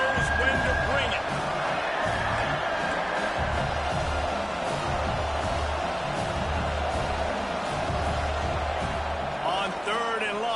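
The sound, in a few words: stadium crowd cheering in video game NCAA 26 football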